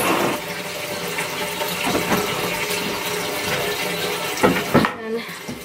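Water runs steadily into a clinic basin, filling it to cover instruments before cleaning for autoclaving: a constant close rushing stream, with a couple of brief knocks near the end.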